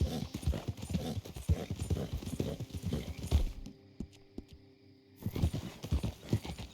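Horse hooves clip-clop at a steady trot in Red Dead Redemption 2, loud and close. They drop out briefly for a second near the middle, then return at the same pace.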